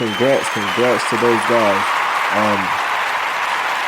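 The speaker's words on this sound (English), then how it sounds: "give them a hand clap" An audience applauds a college sports team ranked in the AP poll, a continuous wash of clapping heard beneath someone speaking over it.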